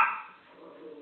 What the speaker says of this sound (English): I thought it was Justin that the dogs are barking at